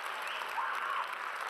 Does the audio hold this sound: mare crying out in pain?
no